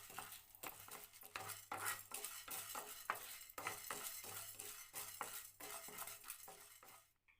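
Fenugreek seeds are stirred and sautéed in a pan over a low flame for chilli gravy, with steady repeated scrapes and clinks of a spoon over a soft, continuous sizzle, close up and without talk.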